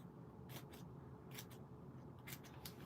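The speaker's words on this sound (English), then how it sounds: "let's cut some smaller pieces" Scissors snip through small pieces of paper for Christmas cards, a few quiet, quick paired cuts spaced over a couple of seconds, faint against a low background hum.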